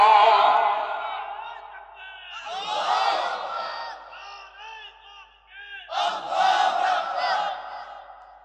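A large crowd roaring the Allahu Akbar slogan in unison, three surging waves of massed voices rising and falling.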